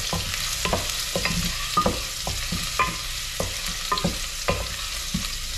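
Ginger frying in a pan for chicken feet adobo, with a steady sizzle broken by repeated clacks of a utensil stirring and scraping the pan at an irregular rhythm, close and fairly loud.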